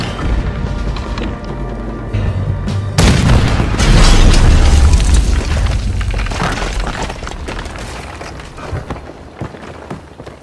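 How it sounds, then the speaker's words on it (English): In the Red Dead Redemption 2 video game, cannon fire erupts in a sudden heavy boom, followed by a long rumbling wash of explosions and crashing debris that slowly fades out. "There's another cannon up ahead on our left."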